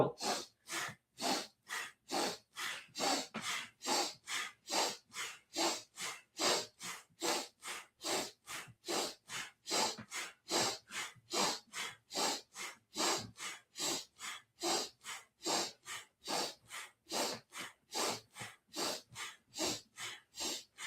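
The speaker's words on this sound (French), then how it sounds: "Tu veux vraiment t'entendre respirer ici." Rhythmic, forceful breaths in a fast steady cadence during a Kundalini yoga exercise for the solar plexus chakra, each sharp exhale evenly spaced and close, continuing for the whole stretch with no talking.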